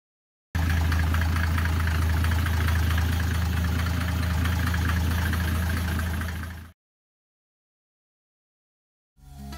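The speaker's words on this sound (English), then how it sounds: "glow the plugs, and then hopefully crank it and hopefully start it" A Mercedes OM606 diesel swapped into a 190E W201 runs with a loud, steady, knocking diesel idle for about six seconds, then stops abruptly; after a silent gap the sound briefly returns.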